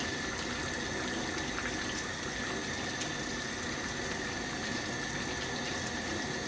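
Bolognese sauce with basil simmering and reducing in a pot, a steady, soft, continuous bubbling and hissing with no voices over it.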